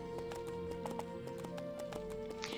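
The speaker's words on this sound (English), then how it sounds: "We're going to use the horse." A horse ridden in the EverQuest II fantasy game clip-clops in a steady, even rhythm of hoofbeats, with sustained game music tones running beneath them throughout.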